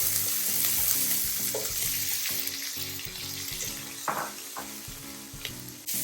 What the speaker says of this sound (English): I'm adding 1 medium-sized chopped onion